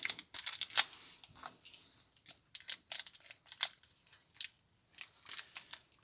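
Small plastic bag of screws being opened at a workbench while building a model Ford Gran Torino's front suspension: close, dry crinkling and snipping bursts in quick irregular clusters, loud against near silence.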